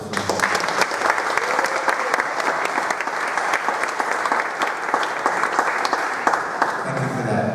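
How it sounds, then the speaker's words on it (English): A large audience applauds at a Diagon Alley preview Q&A session, producing sustained dense clapping that stays loud and even from start to finish, with faint voices underneath. "Let's give them a round of applause, please."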